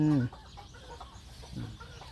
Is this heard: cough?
no